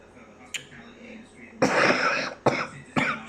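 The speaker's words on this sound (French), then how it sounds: "Je tousse." A person with COVID coughs several times in short, loud bursts, close to the listener, separated by brief pauses.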